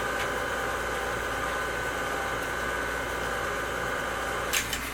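A stand mixer with a paddle beats brownie batter in a bowl, a steady close motor whir and hum that drones evenly throughout, ending with a couple of brief clinks.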